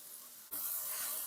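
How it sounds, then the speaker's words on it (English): Snow peas and skinny mushrooms hit a hot stir-fry pan, a sudden bright sizzle bursting in and holding steady as a loud hiss, with no talking. "now I'm just going to go ahead and add in those snow peas, some of those mushrooms"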